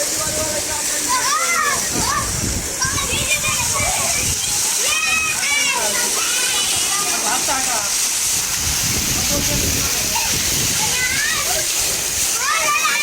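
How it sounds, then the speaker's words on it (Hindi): Continuous rushing and splashing water as people bathe in a river on a hot day, loud and close, with children's voices and someone talking throughout. "आप देख सकते हैं ये नहा रहे हैं।"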